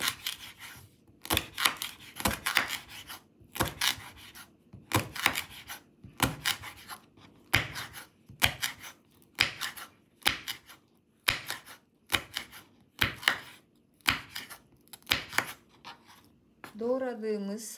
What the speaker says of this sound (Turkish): Aloe veralarımızı doğrayalım.